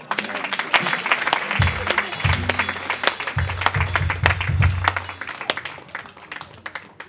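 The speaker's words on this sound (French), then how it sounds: "Je veux qu'on acclame le Seigneur." A church congregation at a convention service claps and cheers in praise of the Lord, a steady, dense burst of applause with voices and music mixed underneath.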